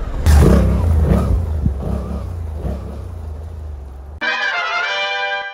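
A 2023 Suzuki V-Strom 800 motorcycle ridden on a dirt track trail gives a loud, steady low engine rumble, which gives way abruptly near the end to a bright, higher harmonic whine.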